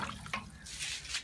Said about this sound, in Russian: Вода льется.